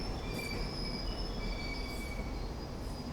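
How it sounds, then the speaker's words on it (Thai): A video game train rolls into a station with a constant rumble and high, sustained wheel squeals ringing over it, steady and fairly close. "เสียงรถไฟมาแล้ว"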